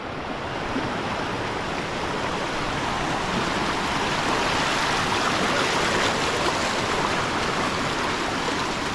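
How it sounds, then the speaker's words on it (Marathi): Water from a hillside stream runs steadily down from the hills in rural Konkan countryside, a continuous close rushing wash with no pauses or voices. "वरती कोंडीतून जो पाणी येतो इकडे खालती येतोय"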